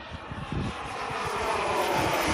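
A large RC airplane with a big glow or gas engine, around 180 size, drones steadily in flight, a loud continuous engine roar with fluttering low pulses that holds and slightly builds.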